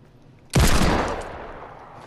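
A loud burst of gunfire in the video game Fortnite starts suddenly after a short quiet moment, then fades out over about a second and a half. The sound is close and fills the space, with no talking.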